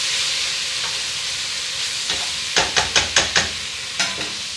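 Vegetarian chili with garlic scape pesto is stirred in a pot over a soft sizzle, then a quick run of five rhythmic spoon knocks against the pot, followed by one more knock.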